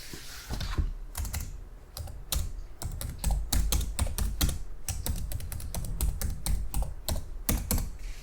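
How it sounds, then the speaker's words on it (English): Fingernails tap rapidly on a computer keyboard, a dense run of clicky keystrokes close up with brief pauses between bursts. "I'm just typing random words."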